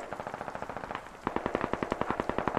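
Sustained medium machine gun fire in the military shooter game Squad, a rapid, steady stream of bursts with a short pause before the rhythm resumes louder and closer.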